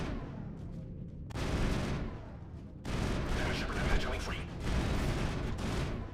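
Bursts of heavy rapid gunfire in the Mass Effect video game, loud sustained volleys separated by brief quieter gaps, with a voice speaking underneath.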